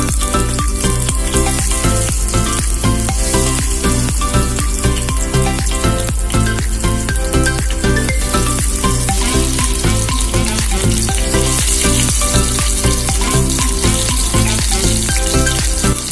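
Prawns frying in hot coconut oil in a pan, a loud, dense, continuous sizzle with crackling pops, heard close and unbroken throughout with no talking.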